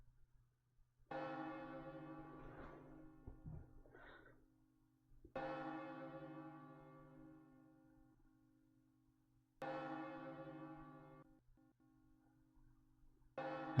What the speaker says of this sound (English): they haven't heard the bell tower ring in 5 years